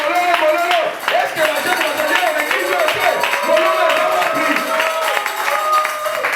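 Inside a church, a congregation claps together in a lively, sustained round of applause mixed with crowd voices and a speaker talking over it.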